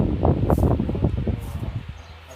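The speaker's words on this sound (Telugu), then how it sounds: "గాలి కొట్టుకొస్తున్నాయి అన్నమాట. ఎక్కడెక్కడ కాగితాలన్నీ" Wind gusts blow loose papers around a yard, making close, irregular rustling and crackling bursts that ease off toward the end, with no voices.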